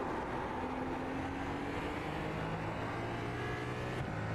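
A Cadillac GT3 race car engine at Watkins Glen in a racing game drones at high revs without a break, steady and close, with slight pitch shifts as it changes speed and no voices.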